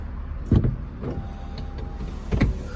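Electric folding roof of a BMW 435d xDrive M Sport convertible in operation while the car moves slowly, a low motor whir with two heavier mechanical clunks near the start and end over faint road noise.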